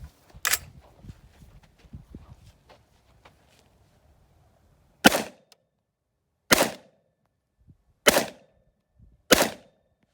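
Five sharp, brief cracks from a suppressed rifle firing subsonic 300 Blackout rounds. One shot comes early, then four follow at irregular intervals of one to two seconds, with faint handling noise between them.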